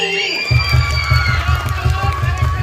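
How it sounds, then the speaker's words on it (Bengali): A crowd of students and teachers claps and cheers at an annual school cultural program, a loud, dense wash of noise that continues without a break. "আমার জন্য একটা হাততালি"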